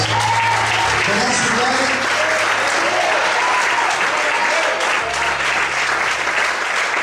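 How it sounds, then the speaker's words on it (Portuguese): A church congregation applauds in a dense, steady wash of clapping while a preacher speaks briefly over it and a low tone hums beneath. "Você pode aplaudir esse Deus?"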